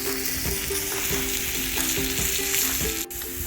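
Meat sears on a hot Himalayan salt block, a steady close sizzle and crackle running continuously with small pops throughout, no voices.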